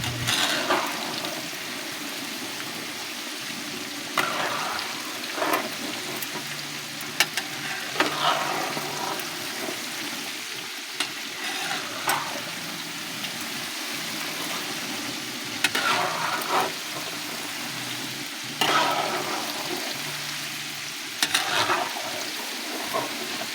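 Food frying in hot oil, a continuous crackling sizzle lasting the whole stretch with occasional louder bursts of spatter and faint scraping, fairly close and steady with no voices.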